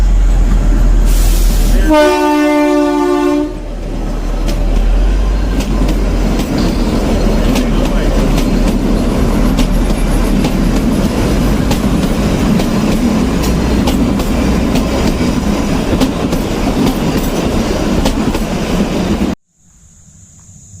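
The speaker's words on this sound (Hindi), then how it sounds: "या रेल आ गई" A train arrives with a loud horn blast near the start, then a long steady rumble and clatter of wheels and carriages as it passes close by. A brief low voice can be heard.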